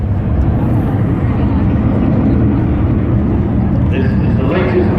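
An Airbus A350-1000 wide-body jet takes off steeply, a loud, steady low roar of engines dominating throughout with little variation.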